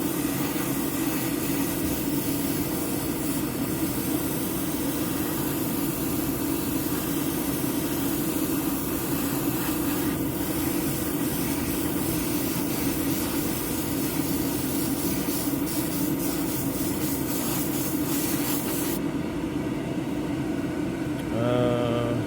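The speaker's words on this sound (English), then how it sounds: "I might just paint it with the airbrush and get close as I can." An airbrush sprays paint onto a model in a steady, unbroken hiss that runs for about twenty seconds at an even, moderate level, then stops abruptly near the end. No one speaks.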